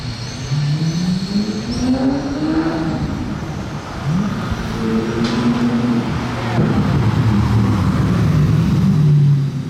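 A first-generation Lamborghini Murcielago with a manual gearbox manoeuvres in Monaco, its engine rising and falling through several revs with a loud, fairly close throaty drone.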